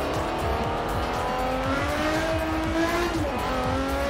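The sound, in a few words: Quartz Regalia car engine driving in video game Forza Horizon 4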